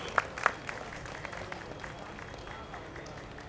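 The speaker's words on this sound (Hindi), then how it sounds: "जोरदार तालियों से उनका स्वागत हो मित्रों" Scattered, fairly distant clapping at a Dahi Handi festival on Miller Ground in Patna, a few sharper claps near the start, then thin, sparse applause with voices murmuring underneath.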